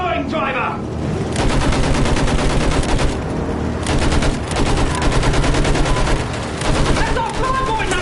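Rapid machine-gun fire from Battlefield 1 rattles in long, loud, sustained bursts with short breaks between them, alongside other battlefield noise and occasional shouted voices.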